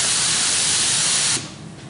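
A 3M Accuspray spray gun spraying a test pattern, one loud close continuous hiss for over a second that then cuts off abruptly.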